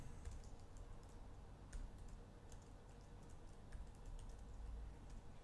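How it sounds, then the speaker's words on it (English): Typing on a computer keyboard, a steady run of quiet, irregular key clicks close by with no talking, faint against a low background hum. "we can type some tests"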